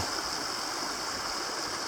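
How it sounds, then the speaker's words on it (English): Steady rushing of a frigid snowmelt mountain stream below a bare, dry slope in the high country, a continuous broadband wash of water heard close and alone, with no voices. "snowmelt water of the high mountains"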